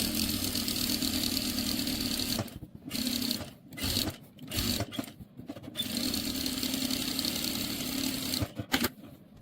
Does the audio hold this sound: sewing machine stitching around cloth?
yes